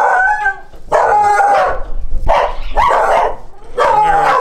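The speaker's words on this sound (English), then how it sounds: "There are some barking dogs." Several dogs bark repeatedly at a house in Mexico, with loud, overlapping barks and yips in irregular bursts close by, carrying on across the whole stretch with no talk.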